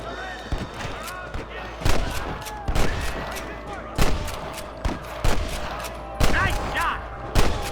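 Gunfire in the Red Dead Redemption video game, a steady run of loud, sharp shots roughly every half second to second, with some voices talking between the shots.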